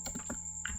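Quick keystrokes on a computer keyboard, a short burst of several taps ending in a firmer press, close and fairly quiet.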